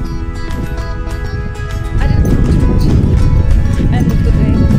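Hooves of the horse Domino clip-clopping at a walk on desert ground in Namibia, a steady rhythm of close hoof falls that grows louder partway through, with a person talking over it.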